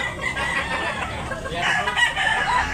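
A rooster crowing at a gamefowl gathering in Tabunok, Talisay, Cebu, a loud nearby call among other birds' noise that runs through the whole brief moment.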